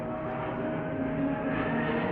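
A high-performance V-tail airplane flies over an airshow, giving off a steady broadband engine roar at moderate distance that holds even and unbroken throughout, with no voices.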